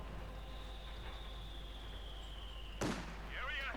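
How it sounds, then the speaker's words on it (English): An American mortar half-track fires in a Company of Heroes 2 battle, a single sharp blast near the end following a long whistling tone, with game ambience and a low hum underneath. "American mortar half-track now receives veteran T2. Firing the big ones again."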